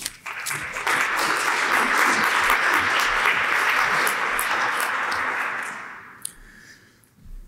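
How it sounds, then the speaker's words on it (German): Audience applause at the opening of a geology and geoenergy lecture hall talk: a dense, sustained wash of many hands clapping for about six seconds, then thinning into a few scattered claps. "vielen Dank für den freundlichen Beifall zu Beginn"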